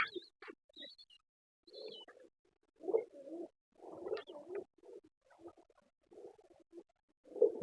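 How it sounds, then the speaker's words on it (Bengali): A Beauty Homer pigeon coos softly in repeated low, throaty bursts with short pauses between them, close and quiet, no talking. "বিউটি হোমা কবুতর"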